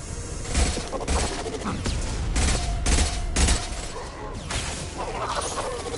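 Heavy weapon fire in Mass Effect Legendary Edition, a loud, dense barrage of blasts and crashing impacts in close, repeated bursts over about six seconds of continuous combat noise.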